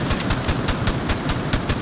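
Military video game gunfire on a German forest patrol, with fast machine-gun bursts firing in a steady, regular rhythm of close, punchy shots and no voices.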